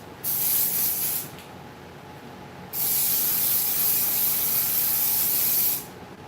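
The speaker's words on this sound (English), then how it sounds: "Coating a rubber over this. It's a real thin spray coating," A thin rubber coating is sprayed from a can in a workshop: two hissing bursts, a short one and then a longer steady one, loud and close, with a quiet gap between them.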